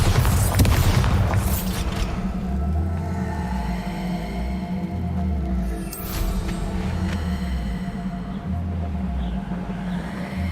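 Bombarda spell blasts from Hogwarts Legacy: a loud booming burst at the start and another near the middle, over a continuous droning game score with low pulsing music.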